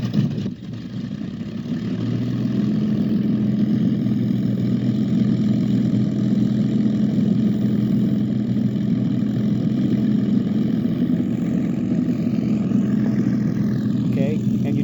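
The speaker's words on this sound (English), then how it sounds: "start the engine with the test switch like this." A simulated Merlin aircraft engine from a Real Sound V4.1RC model sound system idles with a steady, low, even drone after a brief start-up, loud and continuous.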